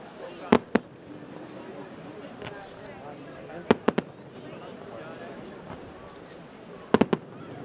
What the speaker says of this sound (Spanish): el broche final lo pusieron un año más los fuegos artificiales que se lanzaron desde el castillo de San Sebastián